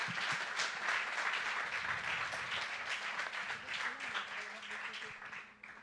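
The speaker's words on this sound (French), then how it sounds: "je pense qu'on peut applaudir ce dernier atelier." Applause from the audience closing a workshop session at a digital and AI conference, steady dense clapping at moderate distance, with some voices mixed in.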